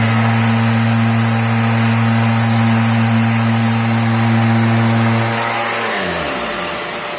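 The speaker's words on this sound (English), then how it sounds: "working on the sanding of the face frame, real easy" A power sander hums loudly and steadily at close range while sanding a wooden face frame, then winds down as the motor slows and stops near the end.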